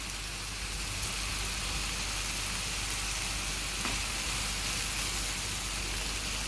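Mashed garlic, about two spoonfuls, sautéing in a pan with a steady broadband sizzle and crackle that holds evenly throughout, moderately loud and close, with no voices.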